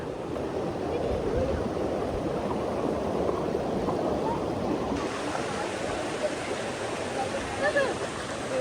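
Steady broadband rush of flowing water, close and continuous, a river running over rocks at Jeram Enggang in Jelebu, with no clear talk on top.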